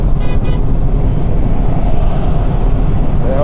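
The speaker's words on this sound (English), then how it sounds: "The hell's honking?" A car horn gives a short toot near the start, set against a steady wash of road and traffic noise, with no one speaking.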